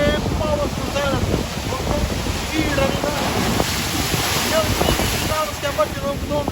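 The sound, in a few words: powerful sea waves on the shore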